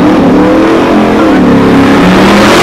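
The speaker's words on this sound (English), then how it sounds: "Norman completing his burnout" A drag racing car, a Mustang, holds a continuous loud, close burnout at a drag strip. The engine roars at high revs and the tires howl without a break.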